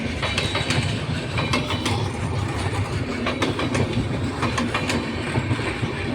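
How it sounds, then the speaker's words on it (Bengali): A train passes through a railway station, with a steady rumble of wagons and repeated clickety-clack of wheels over rail joints, moderately close and continuous throughout. "যাকে একটা গেল, বোধহয় আরও একটা ট্রেন আসবে"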